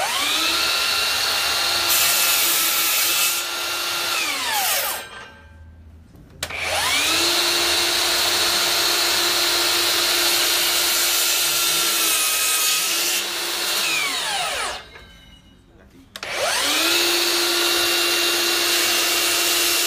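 A DeWalt FlexVolt miter saw cutting wood, the motor spinning up with a rising whine into a long loud cut, stopping, then starting again for a second long cut, with near-silent gaps between runs.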